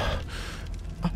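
Heavy, ragged panting from an out-of-breath character in a horror game, fleeing a T-posing pursuer; breathy gasps run steadily through the moment, with one sharper intake near the end.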